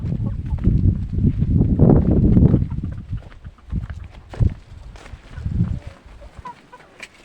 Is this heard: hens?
yes